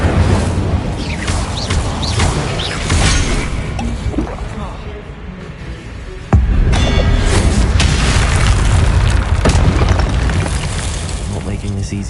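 An Incendio fire spell is cast in Hogwarts Legacy on PS5, producing heavy booming, crashing blasts with rumbling impacts and a sharp surge midway, under an ongoing game soundscape and some talking.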